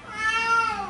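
Rescued Siamese cats meow in a drawn-out, wavering cry lasting about a second, close and fairly loud with no talking.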